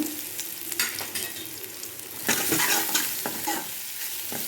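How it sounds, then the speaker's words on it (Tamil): Crushed garlic, pepper and cumin fry in oil with mustard seeds that have already spluttered. The result is close, crackling sizzling broken by stirring clatters, and it grows louder and busier about halfway through. "கடுகு பொரிஞ்ச உடனே நம்ம தள்ளி வச்சுருக்கோம்ல, இடித்து வச்சுருக்கோம்ல, பூண்டு, மிளகு, ஜீரகம் இந்த 3ஐயும் ஆட் பண்ணிடுங்க"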